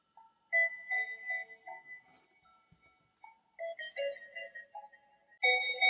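A gentle electronic chime melody plays from a Kairiow sunrise alarm clock, simple tonal notes in a repeating tune with brief pauses between phrases.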